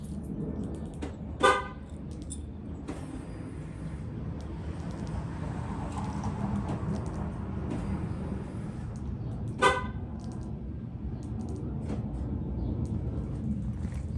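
A 2014 Ford Raptor with a 6.2L V8 gives two short, sharp horn beeps about eight seconds apart during a failed remote start, over a steady low idle-like rumble.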